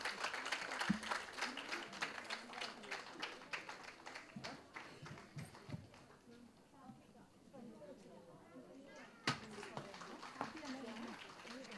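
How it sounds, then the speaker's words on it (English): At a kids' sports event, an audience gives scattered, fairly faint applause for the young champions, with a murmur of talk and crowd noise around it. "A big applause to all the young champions."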